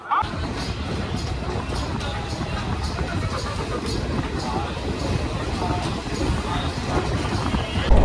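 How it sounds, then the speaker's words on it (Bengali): A Maldah Town Express train pulls into Azimganj station, a steady loud rumble of wheels and carriages filling the whole stretch, with crowd babble mixed underneath. "আর এখনই আমাদের ট্রেন এসে পৌঁছালো হচ্ছে আজিমগঞ্জ স্টেশন"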